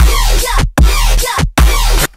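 Harsh, heavily compressed Serum synth stabs with delay, three loud gritty bursts with abrupt gaps between them, heavy low end and buzzing upper texture, no voices.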